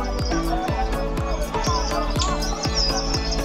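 Oriental magpie-robin, a kacer songbird, singing fast, dense warbled phrases and chirps close by, over a steady background and a repeating low thumping beat.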